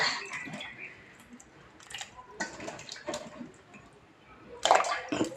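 Mango pieces are washed in salted water, hands splashing and swishing with intermittent clinks and drips, soft and close.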